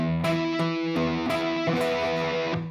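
A distorted electric guitar plays a three-string power chord riff, with about half a dozen crunchy, closely spaced strums ringing out near and loud with no talking.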